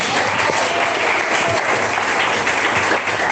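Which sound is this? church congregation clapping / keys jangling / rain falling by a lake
church congregation clapping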